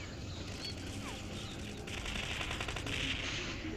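Automatic gunfire in a shooting video game, rapid bursts of shots swelling louder in the second half over steady game background sound, with no talking.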